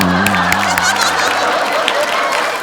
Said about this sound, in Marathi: ए, जोरदार टाळ्या झाल्या पाहिजे त्या दोघांसाठी.